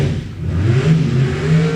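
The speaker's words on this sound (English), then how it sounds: "Crew's happy for it, so burnouts will commence." A drag racing car at a House of Speed Shootout event does a burnout, its engine holding a loud, rough, steady roar with a wavering pitch and no talk over it.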